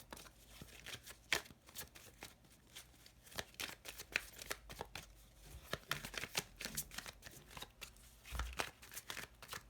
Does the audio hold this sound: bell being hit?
no